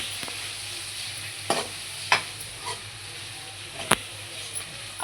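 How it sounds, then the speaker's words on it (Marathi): Spices being stirred into roasting onion and tomato in a pan, a constant hissing sizzle broken by a few sharp spoon scrapes and knocks. "आता आपण हे मसाले याच्यामध्ये सोडूया आणि याला छानसं मिक्स करून घेऊया"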